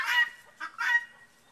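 Free-range chickens inside a hen house give three nasal, honking calls in quick succession, close and moderately loud.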